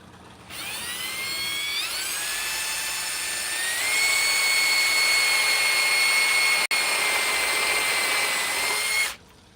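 A power drill drives screws into wood while a giant slingshot is carved from a live-edge piece: one steady whining run of nearly ten seconds, rising in pitch early on, cutting out for an instant near the end, then stopping, loud and close with no talk.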